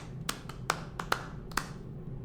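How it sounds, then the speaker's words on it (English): Sparse, individual hand claps ring out at uneven intervals, about six sharp slaps in a couple of seconds, like a small, half-hearted round of applause in a quiet room. "Round of applause"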